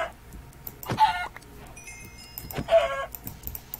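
A chicken in Minecraft clucks twice, a pair of short, clear squawking calls about two seconds apart over faint background noise and mouse clicks.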